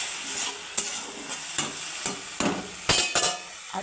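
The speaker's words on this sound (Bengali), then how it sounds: "জল দিয়ে দেবো।" Fig curry sizzling in a pan as water goes in, a steady hiss broken by repeated sharp scrapes and knocks of a spoon against the pan, growing busier toward the end.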